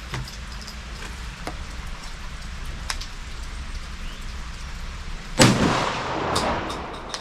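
A 20 gauge shotgun loaded with steel number 4 shot fires once outdoors on a wet day, a single loud boom with a rolling tail, after a stretch of steady rain-like background.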